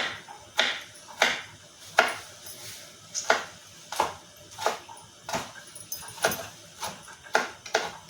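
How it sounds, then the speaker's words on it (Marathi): A tomato being finely chopped with a knife, about a dozen crisp, evenly spaced cuts against a board, close and clear with quiet pauses between strokes. "तर आता हा टमाटा बारीक असा कापून घेते"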